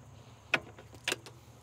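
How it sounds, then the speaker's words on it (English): Throttle cables pop off a GM Vortec/LSx V8 engine, two faint, sharp plastic clicks about half a second apart against a quiet background. "We'll disconnect our throttle cables over here."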